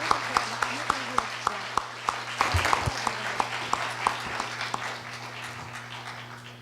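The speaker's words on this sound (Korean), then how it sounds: "박수로 환영해 주시기 바랍니다." An audience at a university special lecture by Russia's Federation Council chair applauds to welcome a speaker, with sparse, individually distinct claps in a steady rhythm over a hum, loud and near.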